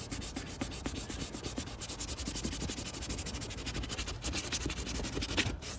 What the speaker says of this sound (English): Getting that all mustard yellow color off of there, so I can get that sanded down